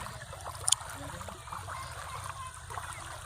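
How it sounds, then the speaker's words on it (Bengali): Water pours strongly from a shallow pump's pipe beside a river, a steady rushing splash with a low motor rumble underneath, close and continuous. "দেখো কত স্পিডে জল বের হচ্ছে বন্ধুরা"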